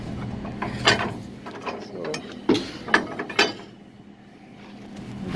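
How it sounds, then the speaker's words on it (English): Ratchet load binder on a flatbed truck hauling steel beams being tightened with a long rod, giving a few sharp metallic clicks and clanks spaced irregularly, close and moderately loud, then quiet. "And then you tighten them with this big rod. You just stick it in here and just keep tightening it"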